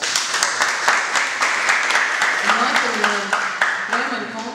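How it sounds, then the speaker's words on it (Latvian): Applause at a press conference for the BIGBANK LV Pērles festival: a room of people clapping steadily at moderate volume, sharp individual claps audible within the sustained wash, while a voice talks quietly underneath in the latter half. "šis fakts ir aplausu vērts"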